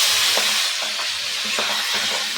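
Fenugreek leaves go into a hot frying pan with turmeric, a loud, steady sizzle and hiss with faint scraping stirs underneath.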